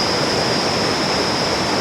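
Waterfall on the Mekong River in southern Laos, a loud, unbroken roar of rushing water that holds steady throughout with no voices or pauses.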